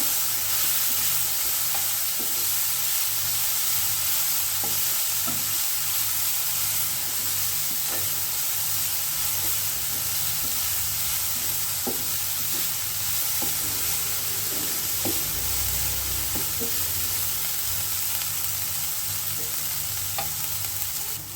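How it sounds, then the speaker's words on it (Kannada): Chavalikayi (cluster beans) frying on a stove over a medium flame, with a constant close sizzle and occasional light scrapes and taps of a ladle stirring through the pan. "ಸ್ಟವ್ನ ಮೀಡಿಯಮ್ ಫ್ಲೇಮಲ್ಲಿ ಇಟ್ಬಿಟ್ಟು ಹೀಗೆ ಆವಾಗವಾಗ ಸೌಟ್ ಆಡಿಸ್ತಾ ಇರಬೇಕಾಗತ್ತೆ"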